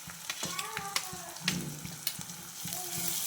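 Grated coconut frying in oil in a pan for a traditional Marathi vegetable curry, a steady close sizzle broken by repeated scraping stirs, with a hint of background voice.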